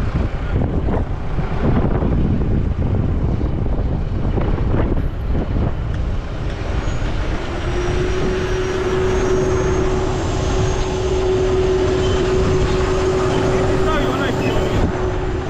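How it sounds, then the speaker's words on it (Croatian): A tractor's PTO shaft engages to drive a corn seeder in a field: a steady engine rumble with wind buffeting, joined midway by a sustained mechanical whine that holds to the end. "Ček sam da upalim kardan i okrenem i titere."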